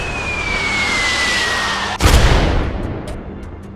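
Bombs exploding in the Worms WMD video game: a rising whistle leads into one loud, sharp blast that rumbles and fades, followed by a few small scattered pops.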